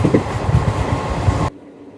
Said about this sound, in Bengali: ট্রেন আমাদের কিষানগঞ্জ ছেড়ে দিল।